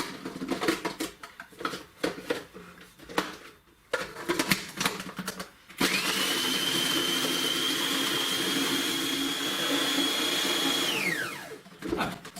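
Kitchen blender crushing chocolate digestive biscuits into crumbs, a loud steady whirring roar that holds for about five seconds and then winds down, preceded by scattered clatter and handling noise.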